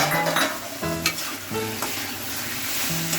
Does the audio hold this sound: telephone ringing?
no